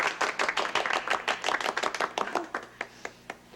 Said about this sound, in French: on applaudit Juliette